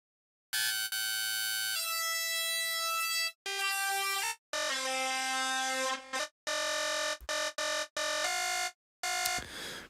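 Air horn sample triggered in music production software, loud sustained blasts repeated in several bursts of varying length with short gaps, alone without talk.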